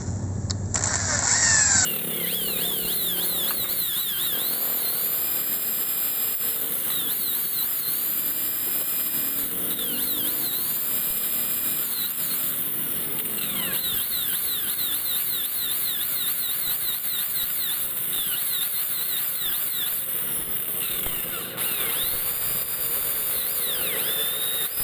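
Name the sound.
drilling out a broken exhaust stud bolt on a Raider 150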